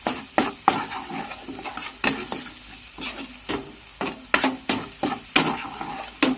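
Onions with ginger and garlic sauté in a pan, a soft continuous sizzle broken by regular sharp scrapes and clinks of a spoon stirring against the metal.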